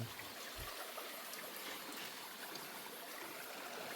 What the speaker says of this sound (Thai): น้ำมา